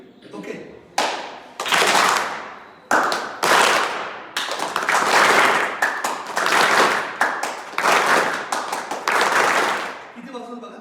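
A group claps in a call-and-response game at a children's home event. Bursts of loud, close hand claps in short rhythmic sets are separated by brief pauses, and voices are heard between the rounds.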